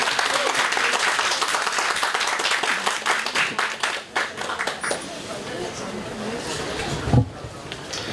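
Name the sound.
audience applause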